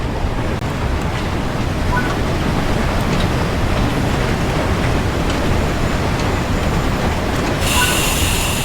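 A steam train in the Spirit of Steam video game slows to a stop, a dense continuous rumble of wheels and rolling noise with a faint squeal, steady throughout and ending in a brighter hiss.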